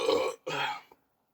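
Two quick, throaty burps in a row, close and loud, followed by a tiny trailing grunt and then silence.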